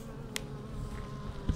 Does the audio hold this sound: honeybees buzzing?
yes